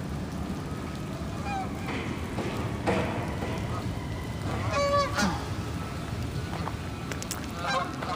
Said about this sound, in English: Here's a gaggle of geese.